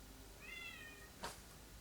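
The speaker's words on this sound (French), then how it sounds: "C'est toi qui miaule." A cat gives a single drawn-out meow with a rising and falling tone, heard at moderate distance over a steady low background hum, followed by a brief sharp noise.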